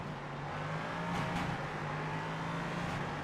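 Steady, droning race car engine note in a racing video game, holding at a constant pitch with a slight swell partway through, moderately loud and alone without talk.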